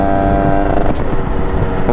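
86 cc motorcycle engine, a modified 86 TPF, running close and loud with a steady buzzing drone and a slight wavering in pitch, heard alone without talk.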